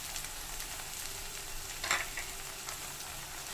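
Cabbage, carrot and capsicum sautéing in a pan make a soft, steady sizzle with faint stirring scrapes and one brief louder clatter, fairly quiet and close.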